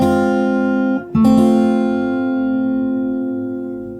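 Two fingerstyle chords on an acoustic guitar close the intro of a song: one chord rings, breaks off briefly, then a second is struck and sustains, fading slowly, close and clear with no voice.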